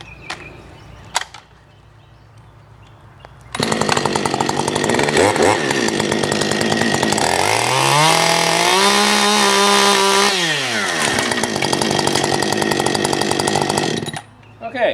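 A chainsaw revs up loudly and cuts through a small-diameter tree, holding a roaring steady drone that dips in pitch as the bar bites, then cuts off abruptly after a few quiet knocks at the start.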